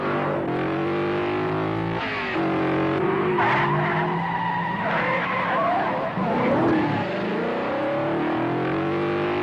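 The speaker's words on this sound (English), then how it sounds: "the car chases have this scrappy energy that you're just gonna love" Tires skid and squeal loudly during a film car chase, with revving engines and screeching sweeps layered together in a dense, distorted mix.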